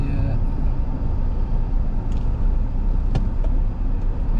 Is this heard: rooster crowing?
no